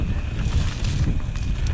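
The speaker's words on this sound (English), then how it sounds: "Windy as shit." Strong wind roars and buffets the microphone on a wilderness trail after a storm during a mountain bike ride, loud, steady and gusting throughout with no talking.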